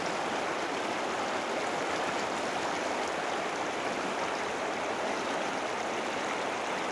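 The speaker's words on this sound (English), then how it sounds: "There's quite a lot of water that is coming down from it." Meltwater stream pouring down from a small glacier below a mountain saddle, a steady, dense rushing of water with no break, close and fairly loud.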